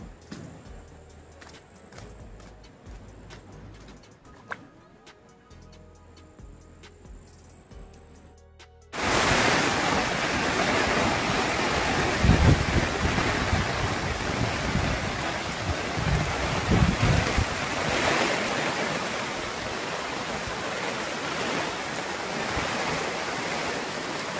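The Gad river in Konkan, flooded after heavy rain, rushes in a loud, steady roar of churning water that bursts in abruptly after a quieter opening and holds strong to the end.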